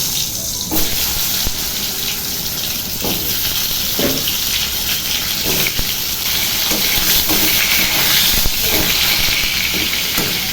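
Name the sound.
pointed gourd (potol) sizzling as it goes into a hot wok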